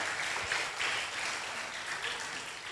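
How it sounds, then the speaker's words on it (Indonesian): A church congregation at a Sunday school graduation service applauds for Ibu Rita, a steady wash of many hands clapping at a moderate distance, continuous and even throughout. "Ya, tepuk tangan untuk Ibu Rita."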